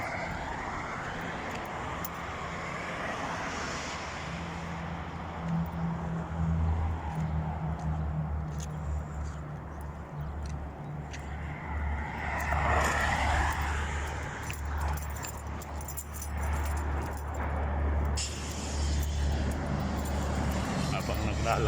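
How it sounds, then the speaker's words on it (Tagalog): Vehicles pass by on a city street in Hail, a steady roar of traffic that swells and fades over a continuous background hum, heard from the roadside while walking. "Aming sasakyan na dumadaan."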